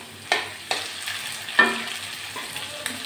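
Green chilies drop into a hot frying pan ahead of mixed greens, giving a low steady sizzle punctuated by several sharp clicks of a spatula stirring, close and without talk.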